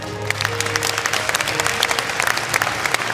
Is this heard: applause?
yes